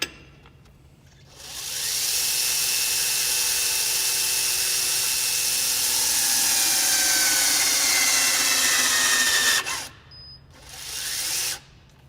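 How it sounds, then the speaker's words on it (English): A TORCUP torque wrench tightening a wheel bolt on an Axial Flow machine, a loud, continuous pneumatic whir running about eight seconds, then stopping, followed by a brief second burst as it backs off. "So it tightens it up, brings it up to torque."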